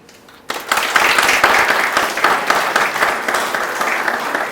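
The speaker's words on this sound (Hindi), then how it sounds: "उससे भी ताली बजा लेते हैं" Audience at a motivational seminar bursts into sustained applause, dense clapping starting abruptly after a quiet moment and holding loud and steady throughout.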